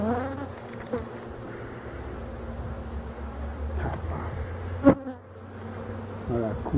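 Honeybees buzz around an open hive during a late-August varroa treatment, a continuous close droning hum with one sharper knock partway through.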